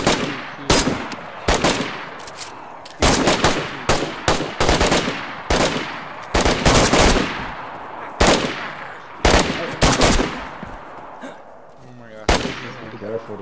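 Automatic gunfire in the DayZ survival game comes in repeated loud, close bursts of rapid shots, separated by short pauses and occasional single cracks.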